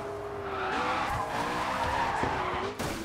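A race car slides sideways in the racing video game GRID 2, its tires squealing in a sustained, wavering screech over a steady engine roar, loud and close throughout.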